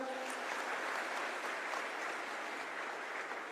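Loud, dense applause from an audience at a Marathi motivational talk, steady and sustained throughout with no speech over it.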